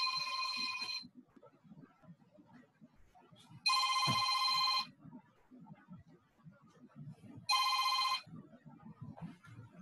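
A telephone rings in three loud bursts separated by pauses, with quiet talk murmuring underneath between the rings.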